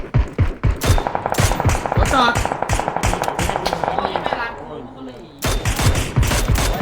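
Gunfire in the battle royale game PUBG: a rapid burst of automatic shots in a dense string, then more sharp shots near the end, loud and close, with voices talking over the game.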